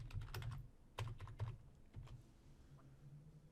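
Keys on a computer keyboard tapped while entering a password, a few quick clusters of clicks followed by pauses, close and quiet against a low room hum.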